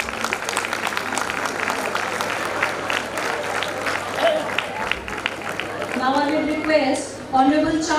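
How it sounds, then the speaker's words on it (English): An audience at a live university ceremony with a brainstorming session claps in a broad, sustained round that fills the hall at a moderate distance, and voices and a speaker can be heard over the clapping toward the end. "Give a huge round of applause."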